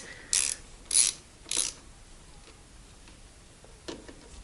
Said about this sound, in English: So let me just tighten these bolts up here